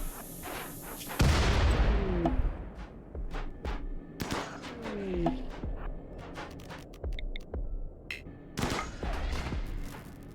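A video game turret fires a loud burst of rapid shots with booming impacts, followed by scattered volleys and sharp cracks through the rest of the scene.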